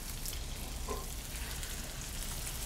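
Huge U12 shrimp laid into a hot frying pan give off a steady, even crackling sizzle that stays fairly quiet and continuous throughout, with no talking.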